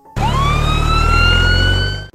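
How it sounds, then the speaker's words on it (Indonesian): An ambulance siren arrives, its loud, steady electronic wail rising in pitch and then holding over a low engine rumble for about two seconds before cutting off. "Ambulans datang"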